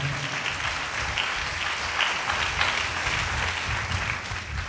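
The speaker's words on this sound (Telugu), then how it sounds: "చప్పట్లు కొట్టి దేవుడు మహిమపరుద్దాం గట్టిగా" Sustained applause from a church congregation at a Telugu Christian ministry gathering, dense and steady clapping filling the space for several seconds at an even loudness.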